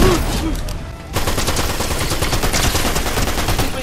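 Rapid bursts of close, loud gunfire from Fortnite, crackling continuously after a brief lull, dense and sustained without talk.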